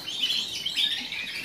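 A Gloster canary, a small crested canary breed, chirps and twitters in a steady high run of tweets close by with no voices.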